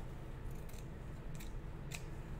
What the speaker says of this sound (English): I am going to take my scissors and I'm going to cut off